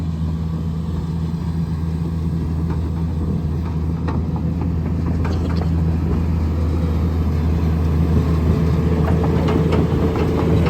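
A tractor engine drones steadily and loudly at close range on a sandy work site, with a constant low rumble and faint rattling throughout and no talking.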